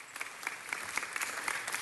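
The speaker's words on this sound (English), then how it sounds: "Let's give him another round of applause." Applause at a city council meeting, a steady round of many hands clapping from the audience with small rhythmic peaks throughout.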